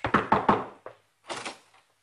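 Knocking on a door: three quick firm raps in a rapid burst, then a single softer knock, a short pause, and another brief cluster of knocks, close and clear with no voices.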